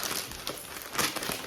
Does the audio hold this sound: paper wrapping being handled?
yes